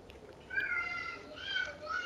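A cat meows a few times, close by, each call a rising, tonal cry over low background noise.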